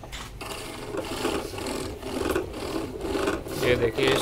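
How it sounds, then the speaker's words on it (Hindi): A wooden kite reel (charkhi) is sanded smooth in a Jaipur workshop, giving steady rasping friction strokes in a repeating rhythm, close and moderately loud, with talk over it. "घिसाई की जा रही है इसकी।"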